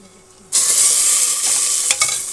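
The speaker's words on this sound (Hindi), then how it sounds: "अब मैं दाल में जाऊँगी तड़का लगाने। तो इसमें मैं डाल दूँगी ये लहसुन।" Garlic dropped into hot oil for a dal tadka, a sudden loud hiss and sizzle bursting in after a quiet moment, then a sustained close crackle with a couple of sharp spits.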